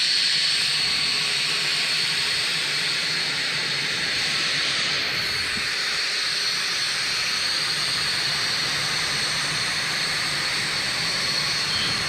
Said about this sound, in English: The engines are going to be shutting down on XB-1 for the final time